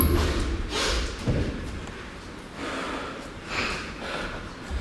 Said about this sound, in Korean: 지금 숨소리.